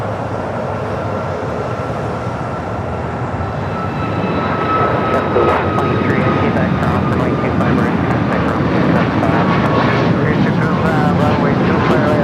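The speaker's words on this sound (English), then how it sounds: "Next departure, already rolling down at 25 right." Jet airliner taking off down runway 25 Right at LAX, a broad steady roar that swells after a few seconds and holds loud and close, with a faint whine riding over the rumble.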